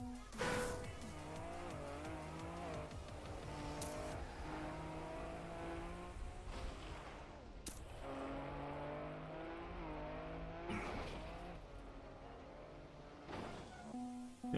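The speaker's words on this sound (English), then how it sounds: "Oh, I see rally car even." Rally car engine in a racing video game, revving and shifting through gears with repeated sharp tire squeals and skids, loud and continuous throughout with no talk.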